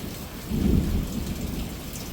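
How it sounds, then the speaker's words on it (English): Thunder rumbles through a steady rainstorm, a deep roll swelling loud near the middle and then easing back into a continuous wash of heavy rain, with no voices. "The thunder is panning right to left and then left to right"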